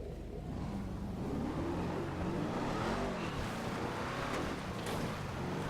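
A Ruiner 2000 car engine in GTA 5 idles and revs, a rough low rumble that swells and settles without a break, fairly close and on its own.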